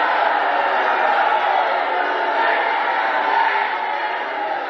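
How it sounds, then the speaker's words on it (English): An unhappy crowd at a congressional town hall reacts with a dense, loud, sustained murmur of many voices and jeering, steady throughout. "Oh, this crowd is not happy with this guy."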